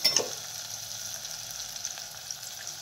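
Spices such as garam masala, red chilli powder and turmeric fry with black-eyed peas in a khichadi pan, giving a soft, even sizzle after a brief clink at the start, close and moderately quiet with no talking.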